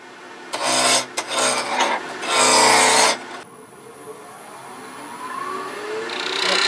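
A wood blank held between centres on a lathe is rounded off for a chickadee ornament: several loud, rasping tool cuts come in bursts, then the lathe keeps whirring quietly on its own.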